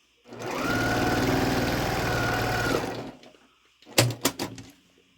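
A sewing machine stitches Halloween quilt block pieces, its motor running in a steady, close, continuous whir for about three seconds before stopping, followed by a few sharp clicks and handling knocks.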